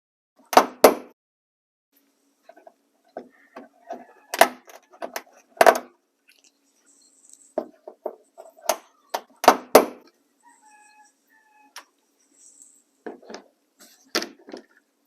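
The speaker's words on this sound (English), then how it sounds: "I'm just going to come in behind it and pop it out. And we're just going to work our way across the bottom, getting all the clips out" Plastic trim clips pop sharply out of the inner rear tail light housing on a Honda Civic, several separate snaps spaced across the clip with faint plastic handling and tool clicks between them.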